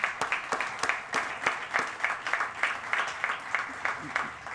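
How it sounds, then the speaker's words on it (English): An audience claps for the mayor at a university dormitory topping-off ceremony, a steady round of many hands close by with a rhythmic, pulsing texture throughout. "Let's give him a round of applause."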